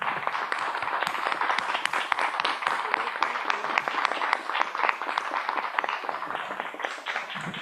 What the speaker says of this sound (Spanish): Un aplauso a todas.